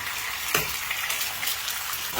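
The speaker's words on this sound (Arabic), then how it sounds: "احرك البيض على السريع" Eggs are stirred quickly in a hot pan with browned onion and hot pepper, giving a soft, steady sizzle and hiss with a brief clatter of stirring near the start.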